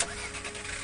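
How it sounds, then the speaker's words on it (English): A car engine cranks and catches, a steady broadband mechanical rumble that stays loud and fairly constant through the short moment, with no talk over it. "When you start your car"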